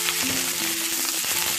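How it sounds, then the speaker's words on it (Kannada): Chopped okra frying in hot oil with mustard seeds for an Udupi-style bendekayi kairasa, a dense, steady sizzle heard alone and close. "ಇವಾಗ ನಾವು ಹೆಚ್ಕೊಂಡಿರುವಂತಹ ಬೆಂಡೆಕಾಯಿನ ಹಾಕ್ತಾ ಇದ್ದೀನಿ."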